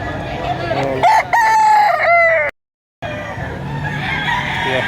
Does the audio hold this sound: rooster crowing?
yes